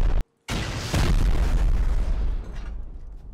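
An explosive round detonates in an online multiplayer survival game, a loud broadband boom after a brief cutout. The rumble decays over about two seconds, with no voices.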